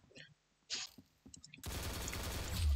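Rapid bursts of gunfire from the Roblox game Arsenal crackle loudly and continuously, dense and near, after a few scattered quieter shots, with no talk over them.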